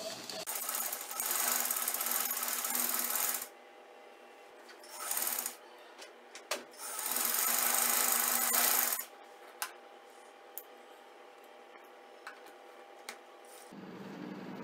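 A sewing machine stitches a Chinese collar neckline in bursts of steady whirring: a long run, a short one and another long run, separated by quiet pauses and a few faint handling clicks.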